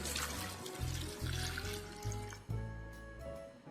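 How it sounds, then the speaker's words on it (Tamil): Water poured into a pot of peeled potato pieces for boiling, heard as a steady, fairly faint stream of splashing and trickling with a few brief pauses, close by and with no talk. "தண்ணி ஊற்றி வேக வச்சிடலாம்."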